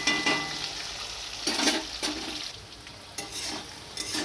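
Ghot kochu arum sizzles steadily as it fries in a pan in a Bengali village kitchen, with periodic spatula scrapes and stirring strokes over the constant hiss.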